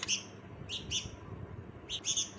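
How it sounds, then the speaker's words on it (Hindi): A hand-fed bulbul chick chirping in short, high bursts, a few clustered calls spaced by brief pauses, close and clear over faint background noise. "देखिए बहुत ज़्यादा चीची चीची ची कर रहा है"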